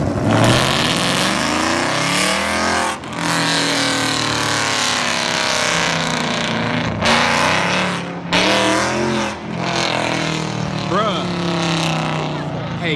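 A manual BMW revving hard at a car meet, the engine roaring and climbing through gears, loud and close, with other engine noise and people talking and shouting throughout.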